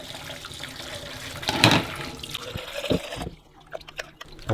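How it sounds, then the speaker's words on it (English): Warm tap water splashes into and rinses a coffee machine's water tank, a moderate gushing burst that fades to faint drips and trickles. "I'm going to give this a real good rinse through. I'm using warm water at the moment."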